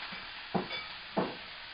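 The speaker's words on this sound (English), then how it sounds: "I'm just going to throw these in the pan, and I'm just going to get a good saute on them" Vegetables sautéing in bacon fat in a pan for smoked fish chowder, a steady soft sizzle broken by two brief scraping stirs, close and moderately quiet.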